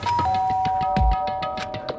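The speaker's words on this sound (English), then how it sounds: "and then pressed the doorbell." A two-tone electronic doorbell chime in the video game Danganronpa rings once, with bright sustained tones over a busy, steady background.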